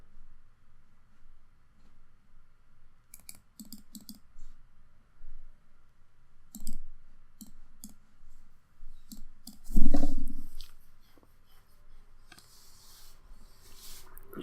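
Sharp computer mouse clicks come in scattered bursts, some single and some in quick doubles, at close range over a quiet room hum, with a louder clattering handling noise near the middle.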